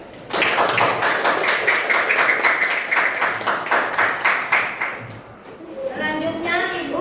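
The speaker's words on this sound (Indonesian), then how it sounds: "Tepuk tangan." Classroom of students clapping together for a group that has just presented, rhythmic, fairly loud hand claps for about five seconds before the applause fades and a voice starts speaking.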